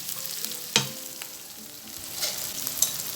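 Onion and garlic frying with spices in a pan give a steady close sizzle, broken by a few sharp stirring clatters, with no talking.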